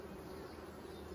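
Honeybees buzzing in a steady, close drone around an emergency-split hive during an inspection, soft but continuous, with no speech.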